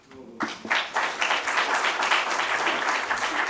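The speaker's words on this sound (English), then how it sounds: "give that applause to the young people." Audience applause breaks out after a poetry reading at a poetry conference, starting suddenly and swelling into steady, sustained clapping from a sizable crowd indoors.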